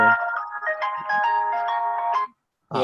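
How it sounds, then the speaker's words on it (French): A telephone rings with a steady electronic ringtone in a room, a bright harmonic tone lasting about two seconds before stopping, then briefly starting again at the end. "Il y a un téléphone."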